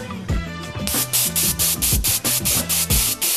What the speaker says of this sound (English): I set it finest mist and coat the whole bike top to bottom